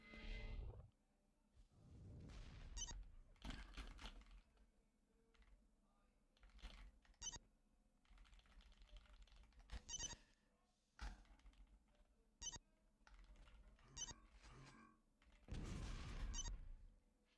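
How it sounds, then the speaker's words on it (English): Typing on a computer keyboard in short clattering bursts of rapid keystrokes separated by pauses, close and quiet, with occasional louder thumps. "I like actually just can't type on this keyboard at all"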